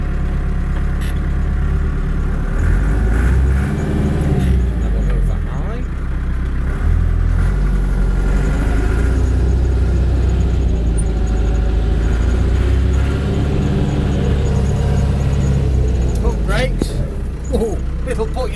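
A Massey Ferguson 390 tractor pulls away in gear, its diesel engine a steady mid-pitched drone that swells and settles over time, with a person talking over it.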